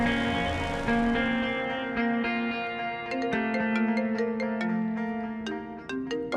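A phone rings with a melodic electronic ringtone that repeats a bright chiming pattern of tones over and over, clear and steady for several seconds.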